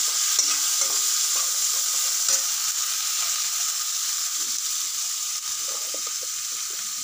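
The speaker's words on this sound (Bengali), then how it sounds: "পেঁয়াজ কুচো দিয়ে একটু এটাকে ফ্রাই করে নিলাম" Chopped onions fry in hot oil for a paneer dish, giving a steady, close, bright sizzle with occasional light scraping from stirring throughout.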